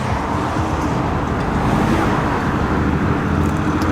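Vintage 1980s ERF lorries rolling into the Midway Truck Stop for a classic truck gathering, a continuous loud low engine rumble with steady road and wind noise and no speech.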